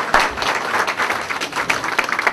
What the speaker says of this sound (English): So please give a big round of applause to Devika and Cheryl Miller